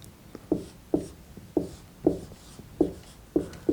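Marker or pen strokes sound while an algebra problem on factoring trinomials is written out, giving seven crisp, evenly spaced taps and scrapes, close and fairly quiet, with no talk.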